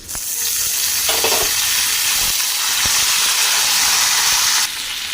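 Fried potatoes crackle and hiss loudly in a hot pan as tomatoes are tipped in, a steady close sizzle with a few stirring knocks, easing slightly near the end.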